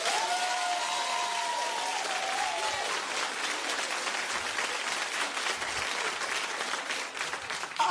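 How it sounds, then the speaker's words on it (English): A studio audience at a daytime talk show claps loudly and steadily for about eight seconds, with a few whoops near the start rising above the dense applause. "So clap if you think they were kissing."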